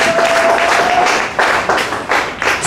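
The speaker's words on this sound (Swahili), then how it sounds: "Tupigie Yesu makofi." A church congregation claps and applauds together, a dense rolling burst of many hands that swells and pulses in waves for a few seconds, loud and close.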